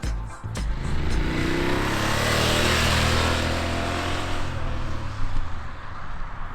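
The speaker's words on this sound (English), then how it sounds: "learn how to bring their motorcycle to a fast controlled stop" A motorcycle engine roars past at mid distance during a training emergency stop, revving and then dropping off as it brakes hard to a fast controlled stop, with a brief burst of noise near the end.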